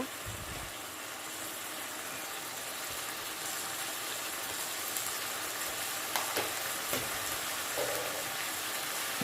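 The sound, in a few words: spices frying in a pan with ginger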